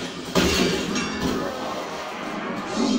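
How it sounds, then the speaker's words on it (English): Call of Duty Black Ops Cold War zombies game audio, with player armor breaking as a sharp glassy shattering crash near the start, over dense, noisy game sounds. "that's the sound of my armor breaking."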